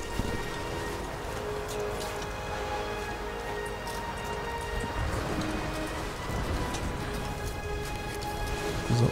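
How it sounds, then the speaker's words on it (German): Steady, dense rain pours throughout a Siberian mountain-climbing stretch of the video game Rise of the Tomb Raider, a constant close hiss with no break from start to finish. "Es regnet gerade zu viel."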